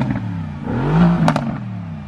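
A Mercedes-AMG GT R gives a short, swelling engine rev that peaks and crackles before easing off, heard nearby in the street for about two seconds.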